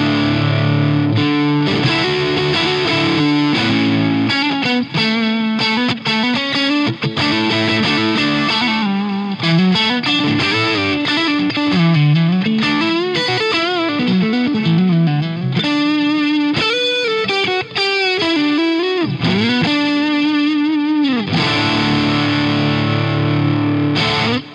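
Electric guitar played through a Cuvave Cube Baby pedal with delay and raised gain, distorted melodic lines with repeating echo tails, loud and continuous with no talking.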